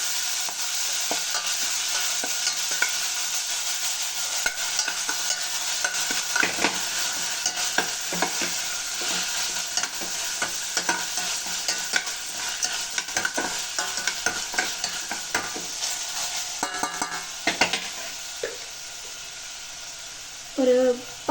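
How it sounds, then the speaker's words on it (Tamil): Onion and curry leaves fry in a pan with a continuous hiss, while a spoon stirs them in irregular scraping clatters. Someone talks now and then over the sound. "ஓகே, இப்போ நம்ம ஆனியன் ஆட் பண்ணிக்கலாம். கருவேப்பிலை சேர்த்து மிக்ஸ் பண்ணிடலாம்."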